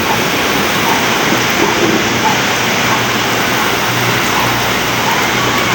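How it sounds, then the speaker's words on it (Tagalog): Steady, dense roar of heavy rain pouring down, loud and unbroken throughout with no other sounds standing out. "Lakas ng ulan."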